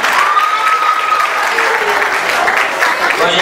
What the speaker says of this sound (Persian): تشویق شنوایی لطفاً.